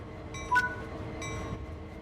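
A diesel locomotive on Sand Patch Grade in the Train Sim World 5 game rolls along with a low steady rumble, while two brief bell-like tonal chimes ring out over it.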